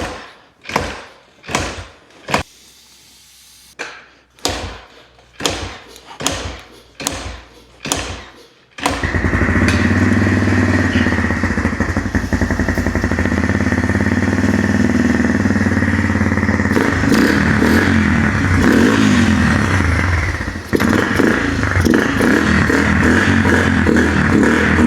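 Motorcycle being kick-started: about eight sharp thumping kicks in a row, then the engine catches and runs loud and close, revving unevenly and briefly dropping, unable to settle into a steady idle.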